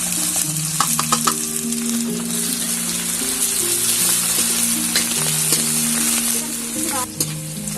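Onions sizzle and fry steadily in hot mustard oil with cumin, bay leaves, cloves and garlic for a Rajasthani cowpea dish, a dense continuous crackle with some stirring and faint background music tones.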